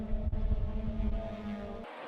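Race cars speeding past at the Siberia section of a windy track in a Mazda RX8 Cup race, a dense, steady engine roar with strong low harmonics that holds for about two seconds and then cuts off abruptly.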